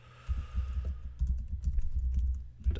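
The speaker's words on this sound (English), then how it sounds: "If you type in a URL" Quick, close clicking of a computer keyboard as a web address is typed, a steady patter of keystrokes running for a few seconds with no voice over it.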